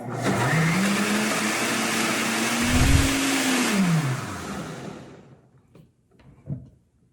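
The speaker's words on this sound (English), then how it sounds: "We're just gonna turn it on and use the power of the blender to actually let it clean itself." A blender running with cleaning water whirs steadily with a rising and falling motor pitch and sloshing liquid, then winds down, followed by a few faint clunks.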